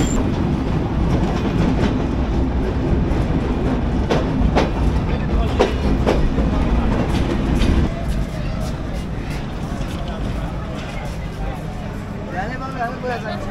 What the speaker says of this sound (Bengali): এখন আমরা ঢুকছি যশোর স্টেশনে